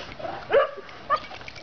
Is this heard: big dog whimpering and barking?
yes